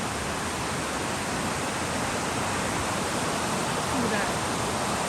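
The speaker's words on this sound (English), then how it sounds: "Look what a pretty river. There's a waterfall down there somewhere." A river with a waterfall in Costa Rica rushes steadily and loudly, a dense, unbroken broadband roar of falling and flowing water close by, with no pauses from start to finish.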